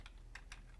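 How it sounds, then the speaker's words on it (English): A few soft, quick keystrokes on a computer keyboard, close and fairly quiet over a low steady hum, in under a second. "type a website in utilizing your keyboard"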